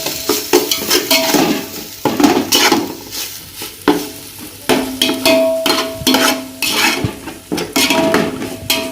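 Ginger garlic paste sautéed for vegetable biryani, a spoon scraping and stirring steadily through a pan in repeated strokes, with a soft frying sizzle underneath and occasional clinks of metal against the pot, close and loud.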